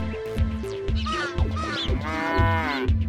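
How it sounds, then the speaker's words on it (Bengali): A cartoon cow moos in several drawn-out, tonal calls over busy animated background sound, with no talking between the calls. "গরুটা তো ডেকে উঠলো, এবার কি হবে?"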